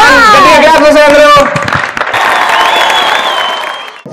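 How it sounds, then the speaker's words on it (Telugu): A TV game-show studio audience breaks into loud, sustained clapping right after a raised voice, with crowd noise running under it until it fades near the end. "గట్టిగా క్లాప్ కొట్టండి."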